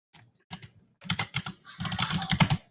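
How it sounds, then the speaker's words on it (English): Rapid bursts of typing on a computer keyboard, clustered keystrokes in short runs with brief pauses, close and fairly loud, no voices. "We need to turn your typing off."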